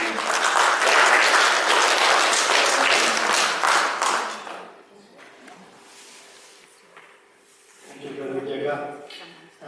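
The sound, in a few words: audience applause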